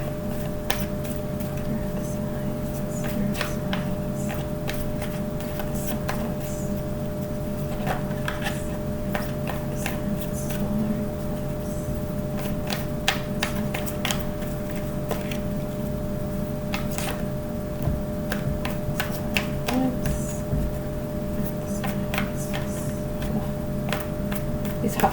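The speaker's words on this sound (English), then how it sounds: "These cards are very difficult to shuffle for some reason." Tarot cards being shuffled by hand, giving a steady run of soft, dry clicks and riffling taps over a constant low background hum, with no talking.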